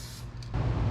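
An aerosol spray can hisses close up as paint goes onto a Nissan Pathfinder WD21. A short, faint puff comes first, then a steady, louder spray starts midway and runs to the end.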